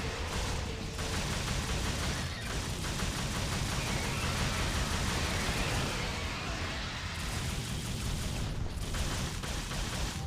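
Dense, continuous gunfire from the action game Devil May Cry, a steady loud barrage of shots against a flying bird-like enemy, with no voice over it.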